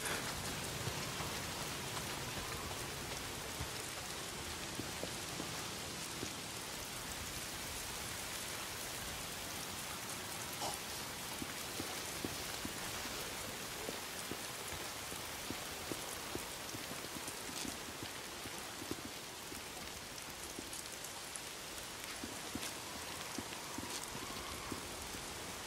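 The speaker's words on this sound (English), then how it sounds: "Why is it always raining?" Steady rain pours throughout in the Days Gone video game, a dense, even hiss of drops on surfaces with faint scattered pattering, low and constant for the whole stretch, with no voices.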